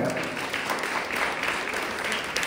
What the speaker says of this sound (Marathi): सरांसाठी पण एकदा जोरदार टाळ्या